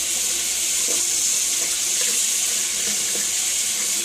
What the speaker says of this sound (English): You're going to turn on your water